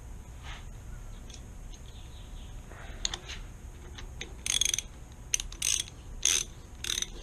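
A bolt is tightened through a polymer piece while installing an Arlen Ness roller bearing throttle kit on a Harley Road King, giving close, intermittent ratcheting clicks in short bursts.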